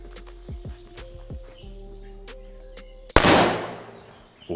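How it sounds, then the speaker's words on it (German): A bigger firecracker with a long fuse, stuck into a carpet, bursts with one sharp loud bang and a noisy decaying rumble, after quieter tapping and small knocks. "Weiter geht's mit einem etwas größeren Böller."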